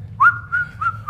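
Someone whistles a short three-note tune, the middle note held, clear and close over a low hum.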